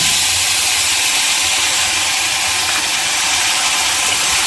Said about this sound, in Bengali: তেলের উপরে মশলাটা দিয়ে দেব